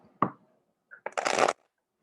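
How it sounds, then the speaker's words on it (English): A quick riffle of cards, then a short burst of fast flapping as the deck is bridged and shuffled, close and fairly loud, with no talking. "This is a well shuffled deck, that I can tell you."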